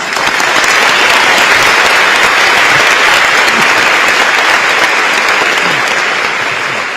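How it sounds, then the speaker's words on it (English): Dense, steady applause from a large banquet audience at the American Chamber of Commerce 2024 Lunar New Year dinner in Taiwan, a loud, even wash of many hands clapping that holds for the whole stretch with no voices standing out. "please join me in applause for Vice President-elect Bi Kim Xiao,"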